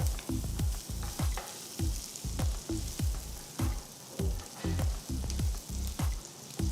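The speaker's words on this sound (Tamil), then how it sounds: "மூணு பெரிய வெங்காயம் பொடியாக நறுக்கினது போட்டு அடுப்பை ஹை ஃப்ளேமில் வச்சு வெங்காயத்தை வதக்குங்க." Chopped onions and cumin sautéing in hot oil over a high flame, a steady close sizzle broken by repeated scraping stir strokes in a quick, uneven rhythm, with no voices.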